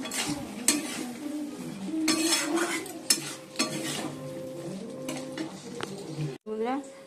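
Dal being tempered with spices in a pan in a home kitchen, with steady sizzling and stirring, clinks of a spoon against the pan, and a voice talking over it.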